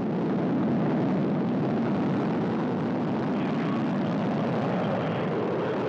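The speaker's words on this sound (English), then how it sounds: "You can see the engines firing now, going up to flight speed and liftoff." Soyuz MS-02 rocket engines roar at liftoff from Baikonur, Kazakhstan, a steady, dense, loud rumble that fills the whole stretch without a break.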